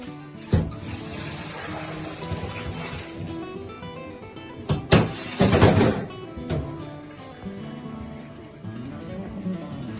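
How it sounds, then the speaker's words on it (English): Cooked spaghetti is tipped into a strainer, and water splashes and gushes through it in a mixed rush with a louder surge midway, close by, alongside clattering. "in the same strainer, I'm going to strain my pasta"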